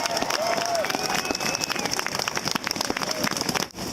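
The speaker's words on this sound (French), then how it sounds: "on l'applaudit bien fort" A crowd's sustained applause fills the space at an Olympic athletes' celebration in Tremblant, a dense, steady patter of many hands with faint voices mixed in, ending abruptly.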